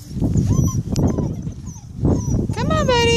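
Eight-week-old pointer puppies whimper and whine in thin, rising cries, close by, with a longer run of high whines near the end, while people talk over and between them.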